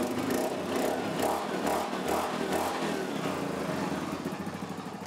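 A Yamaha Grizzly 700 (YFM700) ATV engine runs during a coolant flush, a steady pulsing idle with a slight rhythmic lope, heard up close with no voices.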